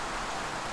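Synthesized rain built in Unreal Engine 5 MetaSounds, a brief, even hiss of steady downpour with a soft low rumble beneath, no voices.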